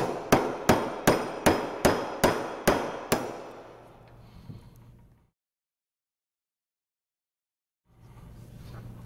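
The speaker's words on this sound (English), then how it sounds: "Eighth inch punch, and we're simply going to drive out the guide pin." A hammer drives an eighth-inch punch to knock the guide pin out of an Extreme Series pump during teardown: eight evenly spaced metallic strikes with ringing decay, close and clear, then silence and a faint hum.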